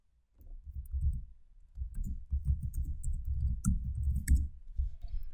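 Rapid clicking keystrokes on a computer keyboard as an email address is typed, close and dry, in several quick bursts with short pauses between them.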